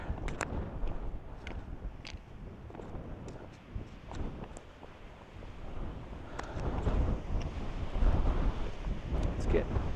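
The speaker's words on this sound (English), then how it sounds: "Let's get that wind picking up now." Gusty wind on an exposed mountain trail in Guadalupe Mountains National Park, rumbling across the microphone and swelling louder toward the end, with scattered footsteps and crunching sounds beneath it.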